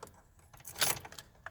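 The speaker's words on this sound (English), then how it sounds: "let's put the key in" A regular Chevrolet key on a 2004 Silverado slides into the ignition with quiet jangles, small metallic clicks and one brief louder scrape near the middle, all faint and close inside the cab.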